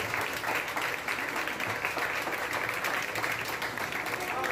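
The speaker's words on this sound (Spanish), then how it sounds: "Ríndale un aplauso a Cristo." A church congregation at an evangelical service applauds together in a dense, steady wash of clapping, with voices mixed in beneath it.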